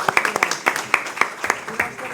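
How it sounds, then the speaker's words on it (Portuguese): Scattered, sparse applause from a small audience at a session in Coimbra, a handful of distinct close claps in an irregular rhythm over about two seconds. "Uma salva de palmas para ela,"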